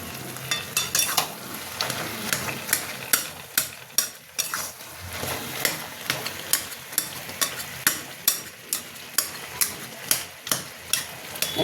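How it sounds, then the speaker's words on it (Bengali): A spatula stirs tomato and vegetables in a sizzling pan for prawn spinach curry, with regular close scraping strokes over steady frying noise and no voices. "এবার একটু নেড়ে দেবো"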